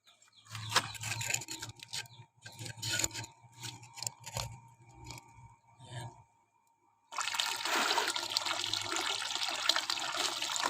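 Tap water pours steadily into a four-gallon plastic container while fermented plant juice is prepared from sweet potato leaves, a broad rushing stream filling the last few seconds after earlier intermittent splashes and handling noises.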